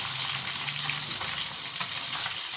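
Fish sizzles steadily in a hot pan of oil, cooking through on one side for a mustard and poppy seed paste fish dish; the frying is loud, close and continuous with no voices.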